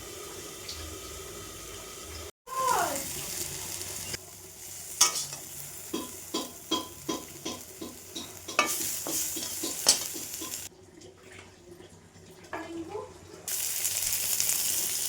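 Red amaranth greens cooking in a pan, marked by a long run of rhythmic scraping stir strokes over a steady sizzle and watery hiss, with brief quieter gaps.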